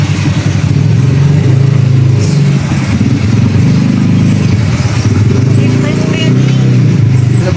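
A motorcycle engine runs steadily close by on a potholed road, a low throbbing drone that holds for the whole stretch and rises and falls slightly as the throttle shifts.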